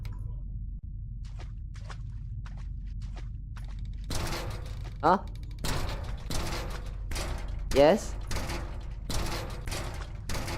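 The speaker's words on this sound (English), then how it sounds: "Don't knock the door like that." Loud, sharp knocks on a door in a retro-style indie horror video game, coming in irregular clusters of repeated raps, with a person speaking briefly between them.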